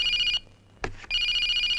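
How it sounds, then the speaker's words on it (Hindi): A telephone rings loudly and close by: one shrill electronic ring burst, a short silence broken by a brief thump, then the ringing starts again. "उसी का फोन है।"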